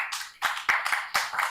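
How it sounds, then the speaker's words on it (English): A conference audience at the Pan African Club Youth Conference claps for itself, with several sharp, separate bursts of handclaps at an uneven pace, fairly close and fading between bursts. "may you clap for yourselves"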